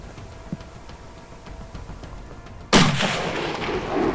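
A hunting rifle fires a single loud, sharp shot in the Alps, its blast rolling out into a long echoing tail across the mountains after a quiet wait with faint ticking, and no talking.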